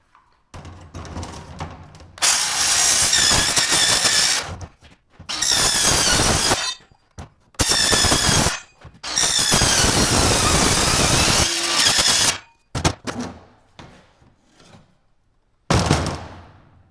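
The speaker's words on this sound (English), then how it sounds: "it is time to make some noise here cutting this aluminum out. I have it all drawn out and got a Milwaukee metal cutting saw." A Milwaukee metal-cutting saw bites through aluminum sheet in several loud, harsh bursts of a few seconds each, separated by short pauses and brief idle spins, with no talking.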